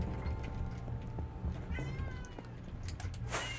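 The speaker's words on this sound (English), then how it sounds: "You can hear my cat in the background." A hungry cat meows softly in the background after waking from a nap, with a few short rising calls over low room hum.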